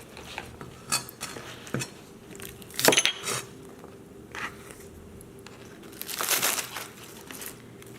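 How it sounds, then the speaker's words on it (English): A knife chopping green onion on a cutting board, with scattered crisp cuts and taps, some louder clattering moments, quiet and fairly close, with no speech. "cut my green onion."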